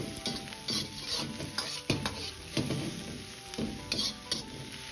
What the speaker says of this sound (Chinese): 继续翻炒几下。